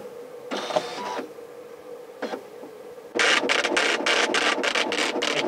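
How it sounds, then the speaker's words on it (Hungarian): A Braille embossing printer runs indoors, first with a few short mechanical bursts, then a loud, steady, rapid series of rattling impacts as it embosses, close and alone without talk. "Egy kicsit nagy a hangja."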